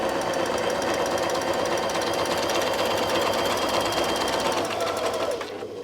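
Sewing machine stitching a curved arc on a quilt block, guided along a circle ruler: a close, loud, steady run of rapid mechanical stitching that stops abruptly near the end.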